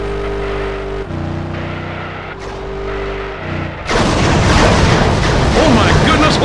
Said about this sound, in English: A huge collision caused there by Rikishi.